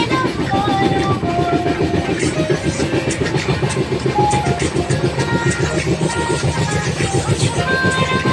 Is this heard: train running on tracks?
yes